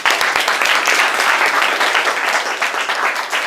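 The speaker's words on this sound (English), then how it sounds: "Clap it up. Clap it up." A crowd at a real estate listing-presentation seminar bursts into loud, dense applause, many hands clapping close and continuous for a few seconds with no talk over it.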